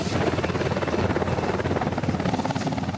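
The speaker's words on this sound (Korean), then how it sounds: "함정 주변 공중 기동하는 헬기들" Military helicopters hover and maneuver around the Marado, a large navy transport ship, with a loud, steady, throbbing rotor drone that fills the air.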